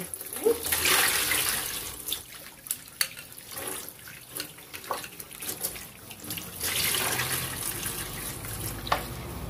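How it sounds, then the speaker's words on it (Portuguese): Tap water runs into a bowl in a home kitchen to wash chicken, splashing in uneven bursts with brief pauses, clinks and drips between the gushes. "Aí eu encho um pouquinho de água assim"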